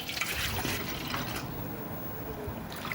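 A cup of water poured into flour for paneer pizza dough: a short, close, steady splashing pour of about one and a half cups that thins out near the end, with no voices.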